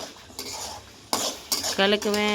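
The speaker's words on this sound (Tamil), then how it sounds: "கலக்குவேன் கரண்டியை விட்டு கலக்குவேன்ற மாதிரி கலக்குறாங்க" A ladle stirs masala in a metal pan with sharp clinks and scraping strokes, several close, loud bursts of metal on metal.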